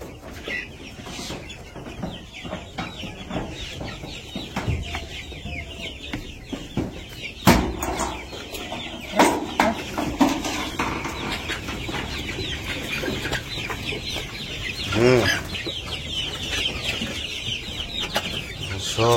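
A flock of village chickens crowds in to be fed in the morning, clucking and squawking busily over rustling and pecking sounds, with a few sharper calls standing out and no speech.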